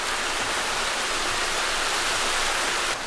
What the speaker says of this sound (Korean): 분수가 뿜어져 나오면서 용 입에서도 물줄기가 쏟아지는